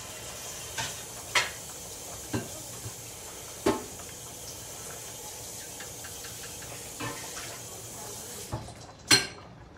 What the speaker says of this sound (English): Let me run some water on it and cool this off,